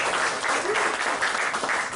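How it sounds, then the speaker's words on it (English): Applause from a conference audience of Tea Party members, a dense, steady clatter of many hands clapping together throughout, fairly close and loud, with no voice over it. "Give yourselves a round of applause."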